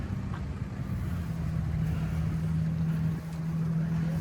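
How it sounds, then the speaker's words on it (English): A Fuller and Johnson 3-horsepower kerosene engine idles steadily at an engine and tractor swap meet, a continuous low hum with a droning tone running through the whole stretch, no voices heard. "we've got Fuller and Johnson. Yep. 3-horse kerosene engine"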